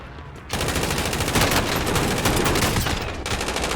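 Rapid, loud shotgun blasts in Call of Duty: Warzone, continuous firing filling several seconds after a brief quiet start.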